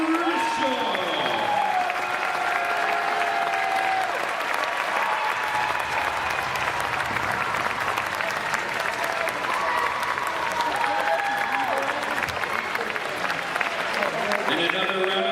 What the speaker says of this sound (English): Everyone, a round of applause for St. Martin's Athletic Director, Bob